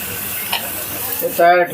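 Butter sizzles on a hot sizzler plate with vegetables set on a home griddle, a brief close crackle and stirring noise with a short burst of voice near the end.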